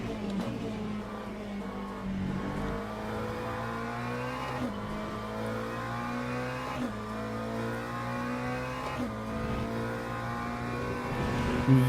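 GT3 race cars, BMWs and a McLaren, run in Le Mans Ultimate, holding a steady, loud engine drone with rising harmonic pitch sweeps as gears shift, several cars sounding together throughout.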